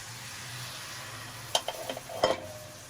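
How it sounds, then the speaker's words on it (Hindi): Sugar syrup poured over almonds and pistachios roasting in a pan for gond and alsi laddu, starting with a quiet low hiss, then a cluster of scraping, clinking stirs and soft sizzles in the last half, no talk. "ये अब मेरे पास चाशनी पड़ी हुई, ये अब हम डालेंगे"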